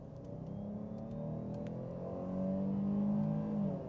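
A 2022 Jeep Grand Cherokee engine hums and builds in pitch as it accelerates, a steady revving drone that swells louder toward the end.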